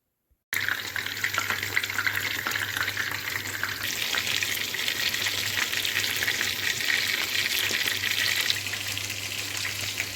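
Cutlets coated in flour and egg fry in a pan with a dense, continuous sizzle and crackle. It starts abruptly and stays fairly loud and steady, with no talking.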